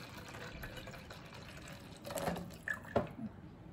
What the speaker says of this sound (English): go ahead, start pouring. I've got around 1 liter here.